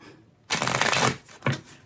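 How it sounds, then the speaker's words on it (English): A deck of tarot cards is shuffled close up: a dense riffling burst lasting about a second, then a shorter second riffle, with no talk over it. "I'm going to give it one more shuffle, though, just for good measure."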